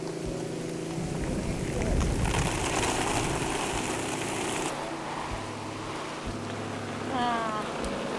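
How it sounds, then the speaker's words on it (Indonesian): Steady rain falls outdoors, a dense continuous patter with a low rumble beneath, fairly close and unbroken throughout. "Hujan lagi."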